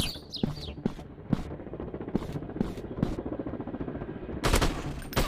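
FPS shooting video game gunfire: rapid bursts of sharp shots repeat through the clip, with a louder sustained volley near the end and no talk over it.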